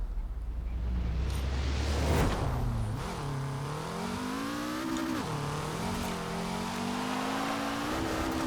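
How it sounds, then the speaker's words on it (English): A car engine in the Forza Horizon 4 racing game revs and shifts through gears, its pitch rising and dropping in steady sweeps, loud and continuous with no talk. "the trick is to not rev the engine so hard"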